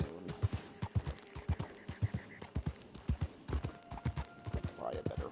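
Rapid, regular hoofbeats of a galloping horse in Red Dead Redemption 2 Online, close and distinct, continuing under a player's speech and faint in-game ambience.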